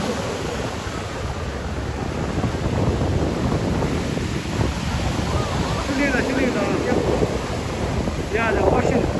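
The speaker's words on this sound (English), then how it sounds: "the ocean wave" Ocean surf at Laguna Beach, a steady broad wash of waves with wind buffeting the microphone, and voices and a few high calls heard faintly in the later seconds.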